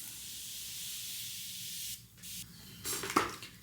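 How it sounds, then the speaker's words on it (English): Soft hiss of Morphe Continuous Setting Mist being sprayed, with a brief burst near the middle and another sharper spritz toward the end, close and quiet. "Morphe Continuous Setting Mist."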